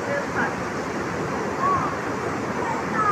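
River water rushes steadily near a crossing on a trek to a waterfall, a loud, broadband wash with a few faint, higher sounds above it.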